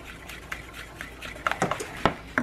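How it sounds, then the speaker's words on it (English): A whisk clinks and scrapes against a bowl while mixing keto pecan pie filling, giving soft irregular taps and swishes that are close and fairly quiet. "I'm going to whisk all this together here."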